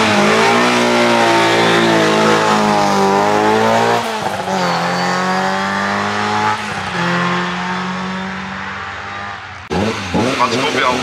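A Ford Fiesta GT race car in Group F accelerates up a hill-climb course, its engine loud and near, revving through several gear changes, while an announcer speaks over it.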